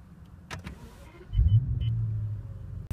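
A BMW 760Li with stock air filters cranks and starts, its engine catching after a few faint clicks and settling into a steady, close idle rumble.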